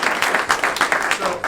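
Attendees at a community advisory meeting clap briefly in an uneven burst, fairly close and loud. Voices talk and murmur through it.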